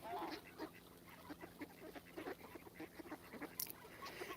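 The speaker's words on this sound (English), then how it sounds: "So we've got a horde of quack quacks." Ducks quack repeatedly outdoors during a walk, a scattered run of short nasal calls from a group of birds, fairly faint and close together with no talking over them.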